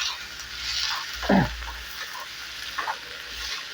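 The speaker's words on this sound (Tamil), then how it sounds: "மல்லித்தழை ஒரு கொத்து போட்டு அதுவும் நல்லா வதக்கணும்" Coriander leaves sautéing in a pan give a steady, soft sizzle with a louder rustling burst near the middle and a smaller one toward the end, close by with no voices.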